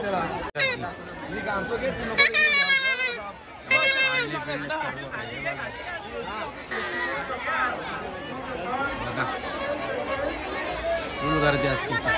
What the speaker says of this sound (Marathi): दाखवतो इकडं गर्दी कशी असतात तुम्ही बघा